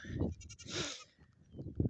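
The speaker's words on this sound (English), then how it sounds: "it's like the goats are out" Goats bleat on a farm in Stockton, Missouri: two or three close, loud bleats with pauses between them and no talk.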